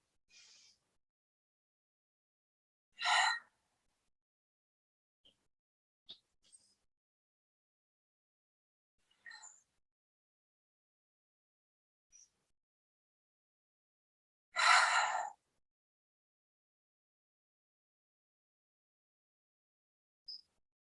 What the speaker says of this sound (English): breathing in through the nose and out through the mouth, slightly lengthening the exhale